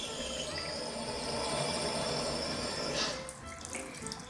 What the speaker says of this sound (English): let me show you how it looks when you turn on the faucet without an aerator